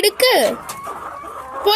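A hen in the coop, sitting to lay eggs, gives a few close, loud clucks and a rising squawk, with quieter murmuring between the calls.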